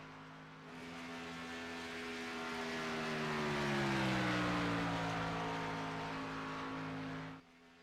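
Hunter Kent's number 7 race car in a racing video game drives on track, its engine droning loud and near as the pitch rises and then falls, before cutting off abruptly at the end.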